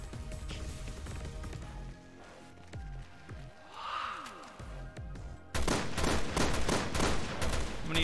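Rapid pistol gunfire in Resident Evil Revelations 2 Raid Mode, sharp repeated shots amid game effects, swelling into a dense, louder barrage in the final seconds.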